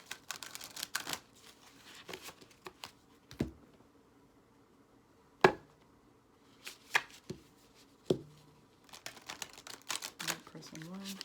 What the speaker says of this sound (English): One more shuffle for this.